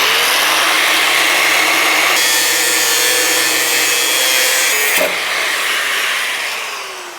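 A power tool cuts along a marked line in a rusty steel seat box panel, giving a steady, loud, harsh grinding whine that shifts pitch midway and briefly breaks before resuming.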